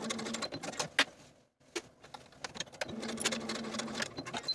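A sewing machine basting the facing edges to a pintuck dress bodice runs in short rattling bursts, with a brief pause partway, then a steadier stitching hum, close and moderately quiet.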